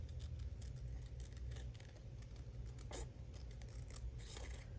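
Scissors trimming a piece of paper for a journal page, quiet snips and paper scrapes at intervals over a low steady background hum, no voices.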